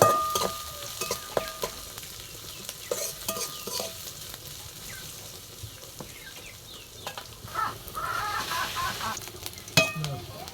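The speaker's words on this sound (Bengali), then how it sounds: "পেঁয়াজটা খুব ভালোভাবে ভাজা হয়ে গিয়েছে" Oil crackles and sizzles steadily as chopped onions and green chillies fry, with occasional scraping and stirring clatter and faint background noise.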